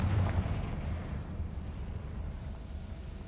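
A fiery Confringo spell bursts in a fantasy video game, giving one heavy low boom up front that rumbles and fades over a few seconds, with no talk.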